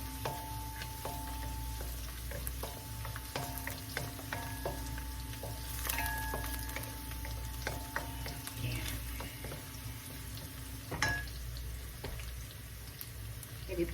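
Garlic and onion sautéing in a pan, a soft continuous sizzle with occasional utensil clinks and stirring, fairly quiet with faint kitchen background throughout.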